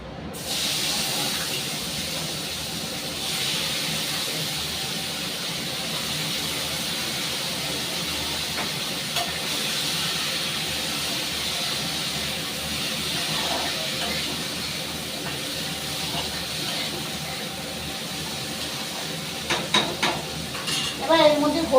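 Cut potato, onion and tomato frying in a pan, a loud, steady hiss and sizzle that runs on and on, with a few stirring clatters near the end.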